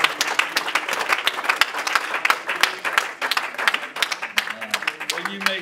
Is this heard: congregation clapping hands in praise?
yes